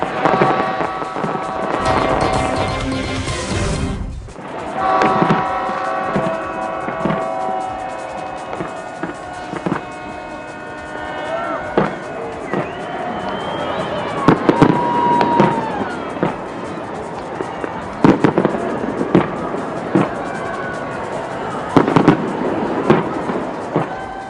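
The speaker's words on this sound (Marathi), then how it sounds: "स्काय टॉवरवर लावण्यात आलेल्या भल्या मोठ्या घड्याळामध्ये रात्री 12 वाजल्यानंतर तुफान अशी आतषबाजीला सुरुवात झाली" New Year fireworks over the Sky Tower in New Zealand: loud, continuous bursts of bangs and crackling pops, with a dense roar of overlapping explosions that rises and falls.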